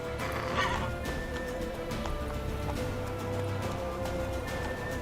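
A horse in The Witcher 3: Wild Hunt gallops with steady clip-clopping hoofbeats and gives a whinny early on, over a continuous game soundscape.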